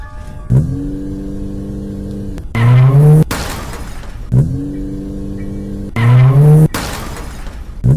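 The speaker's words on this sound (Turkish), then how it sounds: "Hemen arabaya binip gidiyoruz." A car in the Granny video game revs and accelerates, then skids with sharp tyre squeals and rough scraping, the same loud burst of driving repeating twice.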